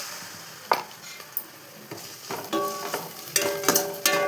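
Onions sautéing in a pan, a steady soft sizzle with several sharp clinks and scrapes of a spoon stirring, growing busier toward the end; no talk.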